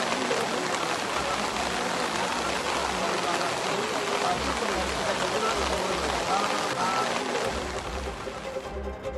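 Heavy rain pours down in a dense, continuous hiss across the whole stretch, steady and loud without a break.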